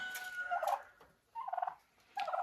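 Turkeys kept in a greenhouse over winter give three short, rattling gobbles at close range, separated by brief quiet gaps.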